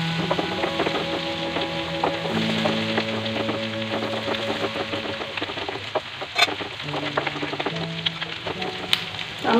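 Dried fermented fish (shidol, chepa shutki) sizzles steadily in a hot pan for a bamboo shoot dish, a continuous close frying crackle with a few sharper pops, no voices.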